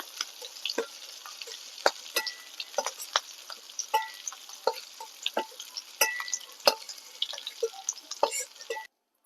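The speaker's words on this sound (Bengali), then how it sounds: "আমি চিংড়ি মাছটাকে ভালো করে ভেজে নেবো" Shrimp sizzle and crackle in hot oil with a steady hiss, punctuated by sharp pops and clinks of stirring, close by and fairly loud.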